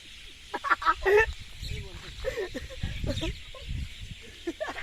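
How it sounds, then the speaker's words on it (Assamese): Birds calling at dusk in rural Assam, a few sharp chirps and clucking calls near the start, then scattered calls mixed with intermittent talking and rustling nearby. "এই আমাৰ চৰাইকেইটাহে বেছি শব্দ কৰি থাকে।"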